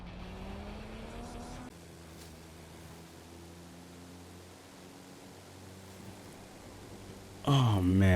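A truck drives in the racing game Forza Horizon 5: an engine tone rises briefly at first, then settles into a steady, moderate drone with road noise before a louder burst near the end.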